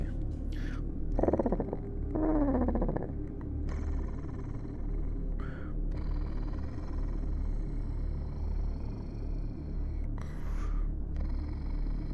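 A low, rumbling purr-like voice imitating a cat, with breathy bursts and a short whine, continuing steadily against a dull background rumble.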